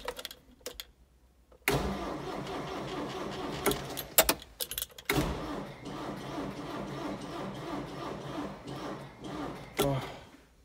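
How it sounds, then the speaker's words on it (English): A farm tractor with a failing starter cranks repeatedly without catching, giving several bursts of loud grinding churn separated by short pauses and clicks, close and with no engine firing. "since the tractor won't start"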